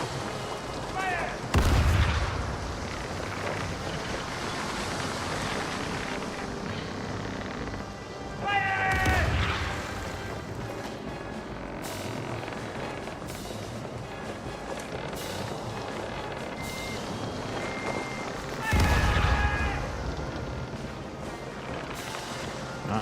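Ship cannons fire in the pirate sailing game Caribbean Legend, booming broadsides heard three times at spaced intervals over a constant bed of sea, wind and game ambience, with someone talking now and then.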